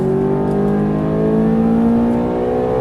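Ferrari F430 accelerating on a track, a loud, steady engine note rising smoothly in pitch as the revs climb, heard close and continuous with no talking.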